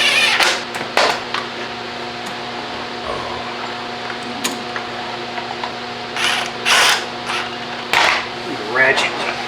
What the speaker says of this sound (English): Ratchet to torque those down.